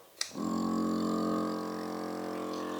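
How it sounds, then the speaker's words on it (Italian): A liquor filtering machine's motor starts with a click and settles into a steady mechanical hum with a pumping whine, running continuously and fairly close. "Adesso sentirete un po' il rumore della nostra macchina"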